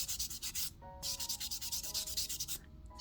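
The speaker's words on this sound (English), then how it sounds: "Sorry for awful buff sounds." Fingernails are buffed with a nail buffer up close, a rapid, rhythmic scratchy rubbing in quick back-and-forth strokes with a brief pause between bursts, fairly quiet overall.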